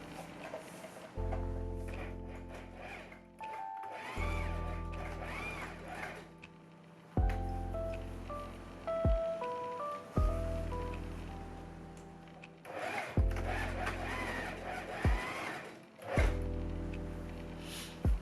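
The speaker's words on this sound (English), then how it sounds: "So I'm just gonna sew while we talk." A sewing machine stitching elastics for Marley mats runs in repeated bursts of steady mechanical whirring, separated by short pauses and small clicks, close and fairly quiet.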